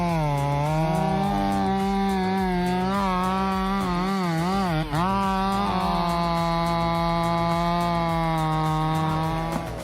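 A big 5.0 kg chainsaw with electronic fuel injection felling a giant cedar, its engine droning steadily and loudly throughout, pitch wavering as it bears into the wood, close and with no talk.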